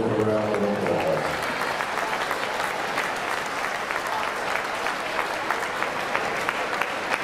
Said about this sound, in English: Let's show Max our appreciation with a round of applause